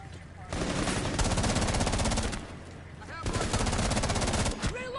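Rapid automatic gunfire from a gun in a PS4 video game, two long dense bursts of shots with a brief pause between them, loud and continuous.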